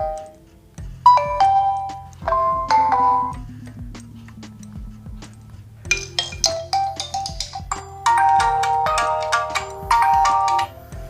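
A Realme 3i smartphone plays its melodic ringtone loudly up close, a chiming electronic tune of repeating notes over a steady low pulse, with no voices.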